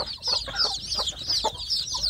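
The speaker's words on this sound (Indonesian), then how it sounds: "anak ayam kampung yang masih kecil sekali, yang baru saja menetas" Newly hatched native ayam kampung chicks peep in a box, high thin chirps repeating in a quick, steady run, close and fairly faint.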